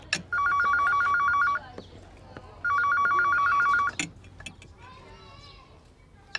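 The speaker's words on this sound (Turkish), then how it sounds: "Kalk lan bak şu telefona." An old-style telephone bell rings in two long trilling bursts indoors, loud and close, with brief clatter and faint background voices between the rings.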